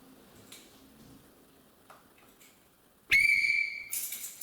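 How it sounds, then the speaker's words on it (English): A referee-style whistle is blown once during a goal-setting seminar talk, a sudden loud shrill blast after a quiet room, held for about a second with a second burst following. "when I blow the whistle"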